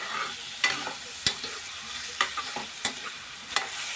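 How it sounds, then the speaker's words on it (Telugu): Chana dal and tomato masala curry frying in a pan, with a soft, steady sizzle. Sharp scraping stir strokes land every half second or so, close and fairly quiet, with no talking. "ఇలా కొద్దిగా ఫ్రై చేసుకుందాం"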